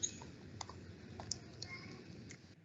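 Quiet, irregular clicks of typing on a computer keyboard, scattered keystrokes tapping faintly in a calm room without speech.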